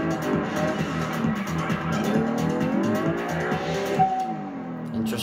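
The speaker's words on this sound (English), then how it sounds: "Hit a palm tree, spin out, and just spin right back around." V12 car in the Test Drive Unlimited racing game hitting a palm tree and spinning out, with a loud engine roar, screeching tires and a skidding squeal rising and falling close up.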